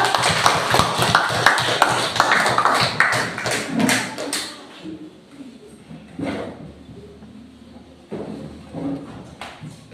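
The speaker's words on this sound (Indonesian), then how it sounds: "Ya, tepuk tangan untuk kelompok 2." Classroom applause for a student group after their presentation: dense, loud clapping from many hands for about four seconds, then tapering off into scattered single claps and faint room noise.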